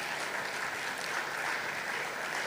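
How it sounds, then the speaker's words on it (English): Audience applause at the grand unveiling of the Zest product, a steady, dense wash of clapping that stays even and unbroken from start to finish, with no voices over it. "Please, a round of applause for ourselves,"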